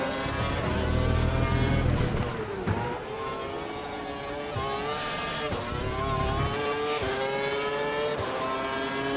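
Race car engines in the F1 2012 video game at Abu Dhabi, loud and continuous, with rising and falling harmonic whines as the car accelerates and shifts through gears, heard alone.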